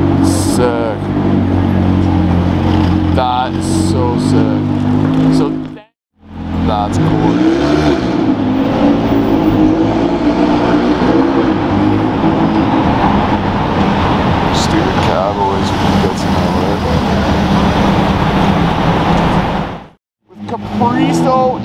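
A sports car fitted with a Capristo exhaust revs loudly and close by in sustained, roaring bursts with brief pauses, while people talk and exclaim over the engine noise.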